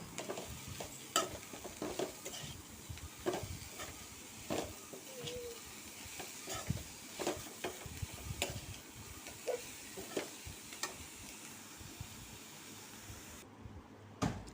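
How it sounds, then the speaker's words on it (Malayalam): Prawn and spinach thoran stirred in a hot pan, with a steady sizzle and frying hiss broken by repeated scraping, clattering strokes of a spoon against the pan, close and alone. "ചീര ഇട്ട് കൊടുത്തിട്ടുണ്ട് നന്നായിട്ട് ഇളക്കി കൊടുക്കാം"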